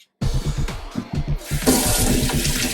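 A kitchen tap turns on and runs steadily while bitter melon is washed under it, with splashing water hitting the fruit and sink, close and continuous after a brief silence.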